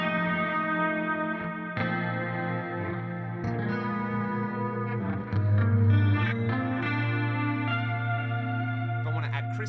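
Electric guitar through an effects unit playing a clean patch, sustained chorused chords with echo and reverb ringing out steadily, close and moderately loud.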